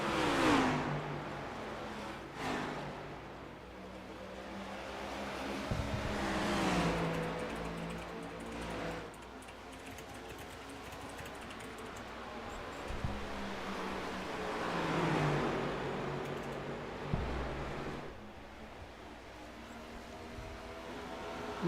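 Several race car engines roar together in a sim racing game's Cup Series event at Phoenix, cars running side by side with rising and falling revs as they sweep past, a continuous loud layered drone with no talking.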